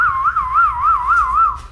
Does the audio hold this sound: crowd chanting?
no